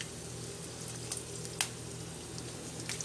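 Green chillies frying in a pan of oil for an egg masala curry, a soft steady sizzle with a few faint clicks of utensils, no talking.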